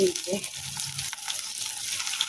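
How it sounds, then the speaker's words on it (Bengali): Pieces of koral or bhetki fish fry in hot oil in a home kitchen, a steady broadband sizzle with brief low clatter and a voice early on, then continuous crackle. "মাছগুলাকে না যে ইয়ে করলাম ওই যে ভেটকি মাছগুলো ভেটকি না কি মাছ এটা কোরাল মাছ বোধহয় যেটা হবে একটা হবে আর কি এইগুলাকে ভাজবো গরম গরম"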